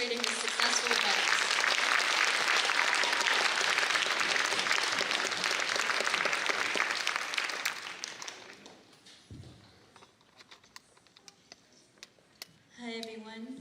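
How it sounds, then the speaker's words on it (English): Sustained audience applause at a Bharatanatyam arangetram solo classical dance debut, dense and loud for about eight seconds before fading into quieter room sound, with a voice starting to speak at the end. "Let's give them a round of applause for orchestrating this successful event."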